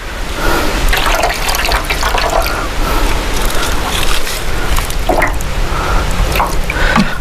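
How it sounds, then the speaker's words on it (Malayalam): Diluted formic acid solution is poured onto a rubber latex sheet on a rubber farm, giving close, continuous splashing and trickling with scattered drips throughout. "ഇത് നിറച്ച് വെള്ളം ഒഴിക്കും. എന്നിട്ട് ഇതിൻ്റെ പകുതി എടുത്താണ് നമ്മൾ ഷീറ്റിലേക്ക് ഒഴിക്കുന്നത്."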